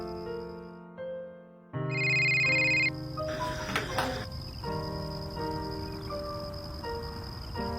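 A mobile phone rings in a Tamil home drama scene, its electronic ringtone tones sounding in repeated bursts over a steady background hum.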